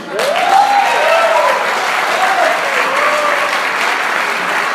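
Church congregation applauding steadily for several seconds, a dense, loud and even wash of clapping with a voice calling out over it.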